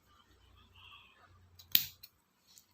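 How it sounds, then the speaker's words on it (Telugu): Scissors give a single quick, faint snip while trimming embroidery thread below a saree kuchu tassel, after a quiet pause. "ఇదిగోండి ఇలా కింద ట్రిమ్ చేసేసుకుంటే సరిపోతుంది."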